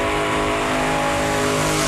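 A 440-powered Dodge Dart GSS muscle car engine revs loud and close, a dense, steady roar with strong harmonic tones held for the whole two seconds, with no voices.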